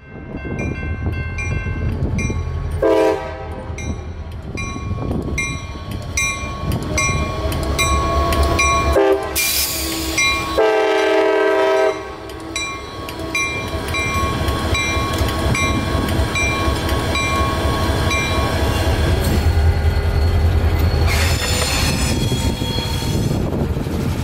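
Tropicana Juice Train freight train easing onto a siding in Florida, loud rumbling cars with repeated sharp wheel squeals and several long horn blasts, continuous and close throughout.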